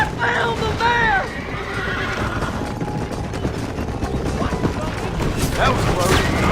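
Horses whinny loudly and hooves clip-clop as they pull a wagon in the video game Red Dead Redemption, with rumbling wheels, scattered gunfire and shouting voices over the galloping.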